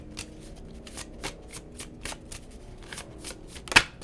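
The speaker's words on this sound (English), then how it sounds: "I'm going to have to choose a card after 3 shuffles" Tarot cards are shuffled in a series of quick riffling bursts, close up, with a sharper snap near the end.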